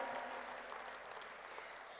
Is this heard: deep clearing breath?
no